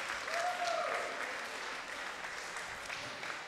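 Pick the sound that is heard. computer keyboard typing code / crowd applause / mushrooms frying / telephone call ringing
crowd applause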